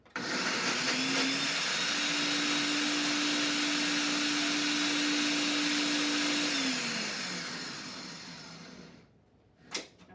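A blender whirs loudly and steadily for several seconds mixing thick chocolate mousse in a blender cup, its motor pitch dropping slightly before it winds down, followed by a brief clunk.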